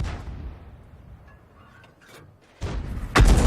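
Heavy booming blasts from a 105 leFH18B2 artillery gun firing and striking in a tank video game: a quiet stretch, then two loud, broad explosive bursts close together near the end.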